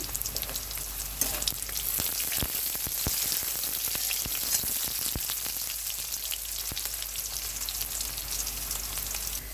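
Dried red chillies frying in hot oil, a steady close crackling sizzle with dense sharp pops running throughout, no voices.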